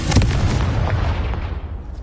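A Confringo blasting spell explodes in Hogwarts Legacy, a loud close boom with a punchy low thump that rolls off into a fading rumble.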